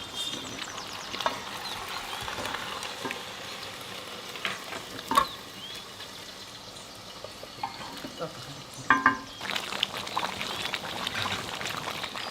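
A roast cooking in a pot gives off a continuous bubbling sizzle, with stirring clatter and occasional metallic knocks close by, and a louder burst of activity near the end.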